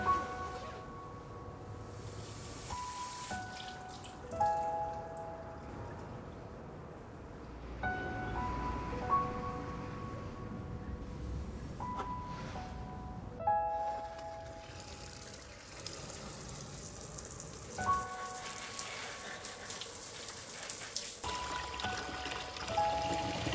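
Water running steadily to fill a bath in a greenhouse room, a continuous soft pouring rush with faint tones and occasional clunks, moderately quiet throughout.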